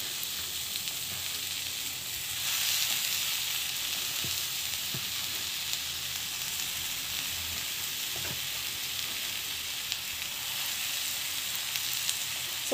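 Mashed potato sautés with garlic paste in a pan, giving a continuous hissing sizzle with a few soft ticks and stirring taps scattered through it.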